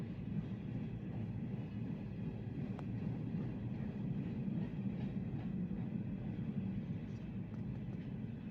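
A Norfolk Southern freight train rolls past on the track, its cars making a continuous loud rumble with faint clatter throughout.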